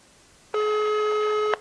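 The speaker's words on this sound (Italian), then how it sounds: "La linea è occupata." A telephone busy signal sounds once, a single loud steady electronic tone of about one second, clean and alone, heard on speakerphone while calling the municipal police in Cagliari.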